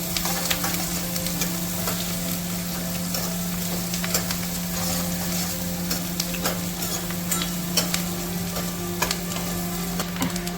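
Chopped onions fry and sizzle in a pan for rajma chawal, with steady stirring scrapes and clinks over a continuous hiss and a low, even hum, close and moderately loud with no talking.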